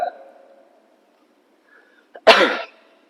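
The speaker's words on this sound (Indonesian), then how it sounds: "Aduh, ini batuk soalnya dari tadi." A single harsh cough bursts out loudly after a brief murmur and near silence, close to the listener.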